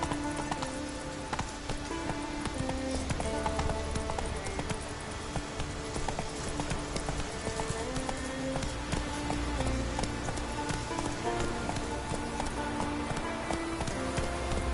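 Horse hooves gallop in The Witcher 3 as a steady, rhythmic clip-clop that runs the whole way through, close and loud over a dense bed of game music and ambience.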